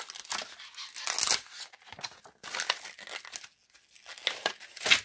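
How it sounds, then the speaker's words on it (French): Paper is torn and crumpled by hand for an art collage, in several close, crisp bursts of ripping with short pauses between them. "Oh, je déchire tout évidemment."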